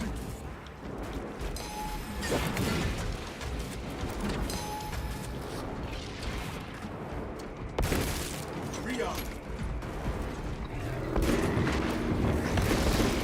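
Explosions and gunfire in the video game Warhammer 40,000: Space Marine 2, with cannon blasts and repeated booms stacked in a busy, loud battle mix that never lets up.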